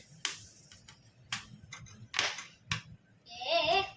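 Corn kernels crack and pop in sharp, scattered bursts while corn roasts at home, several distinct snaps at close range, with a faint voice at the end.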